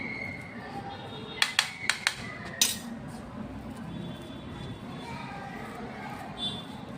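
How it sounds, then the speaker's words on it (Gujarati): A spoon mixes a spiced papad tikki mixture with chili flakes and oregano in a bowl, clinking quickly against the side in a short burst of about five taps over steady room noise. "હવે આપણે બધું"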